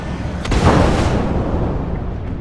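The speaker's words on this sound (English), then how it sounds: "Fire missile. Firing." A spaceship launches a missile in the game Star Citizen, a short sharp onset followed by a loud whooshing roar that fades over about two seconds.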